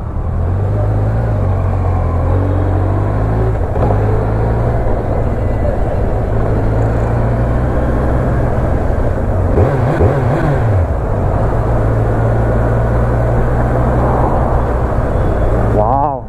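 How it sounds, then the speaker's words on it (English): A Kawasaki Z900 motorcycle's engine and exhaust drone steadily while riding, with wind rush and shifts in pitch as it accelerates, loud and close throughout. "so sporty and good exhaust sound, unlike Versys where I could not hear the exhaust at all"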